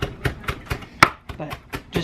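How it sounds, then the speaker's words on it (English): Sharp knife chops strike a board in a steady rhythm, roughly every quarter second, close up, with one louder thwack partway through. "just chopping this up"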